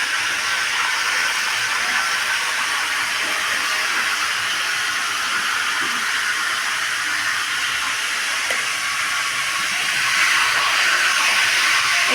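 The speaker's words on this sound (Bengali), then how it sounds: "5 ফোড়নটা আমি দিয়ে দিচ্ছি তেলে।" Panch phoron spices sizzle in hot oil, a loud continuous frying hiss that holds steady throughout, with faint clicks and no speech.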